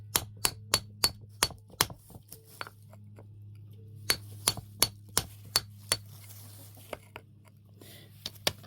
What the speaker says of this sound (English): Maybe they chisel out easier one direction.